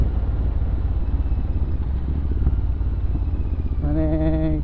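A Royal Enfield Interceptor 650 engine runs with a steady low thrumming exhaust note, up close and loud throughout, with a tonal whine appearing near the end.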